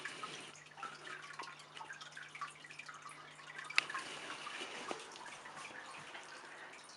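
Water from the filter of a heated pool in a water dragon's terrarium runs in a steady soft trickle, with occasional drips and a faint low hum underneath.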